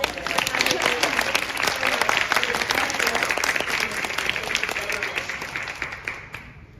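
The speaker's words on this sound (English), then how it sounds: "Let's give a round of applause for Heather" Full, sustained audience applause at a climate week breakfast event, dense clapping close and loud before tapering off near the end, with some voices mixed in.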